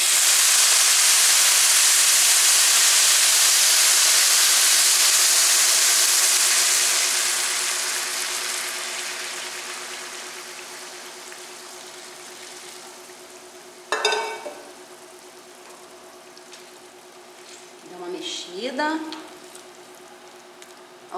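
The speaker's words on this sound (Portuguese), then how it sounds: "Eu vou acrescentar água fervendo." Loud broad hiss of boiling water hitting a hot pan, fading over several seconds into a soft simmer, followed by a couple of brief clatters.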